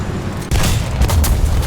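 A high-explosive tank shell from War Thunder lands with a loud, close boom, followed by rumbling blast noise and scattered secondary impacts.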